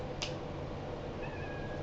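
A domestic cat meows softly indoors, a faint, brief, wavering cry in the second half over steady low background hum.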